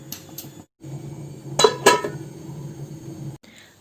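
A metal lid is set down on a cooking pot, making two sharp clinks close together, with a few lighter taps of utensils before it in a quiet kitchen.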